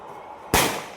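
A small Diwali firecracker bursts once, a sudden sharp bang halfway through followed by a brief decaying crackle, loud and close against quiet outdoor background.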